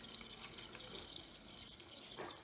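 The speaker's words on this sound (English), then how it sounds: "you can kind of hear the fat bubbling" Pork fat rendering in a pot on a hot wood stove, giving a soft, continuous bubbling crackle with a few small pops, faint and fairly close.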